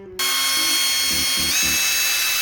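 A power drill bores a small drain hole in a Dong Fang DF250RTT Chinese dirt bike, a loud steady whine running throughout with a few short deeper bursts as the bit bites.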